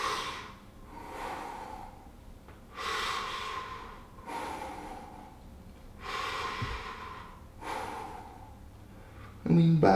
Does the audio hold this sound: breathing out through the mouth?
yes